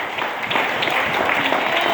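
Applause from a congregation at a church worship service, a dense, steady wash of many hands clapping at even loudness throughout, with no voices over it.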